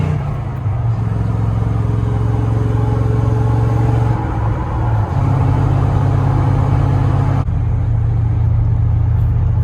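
A second-generation Dodge truck's 318 engine runs loud and close, a continuous rumbling drone whose pitch shifts in steps as the truck moves through gears, with no talking over it.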